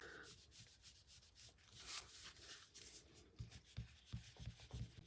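Hard, quick rubbing on a craft card to lift off glue, a soft, close scratchy friction that builds into rhythmic strokes toward the end, with no voices.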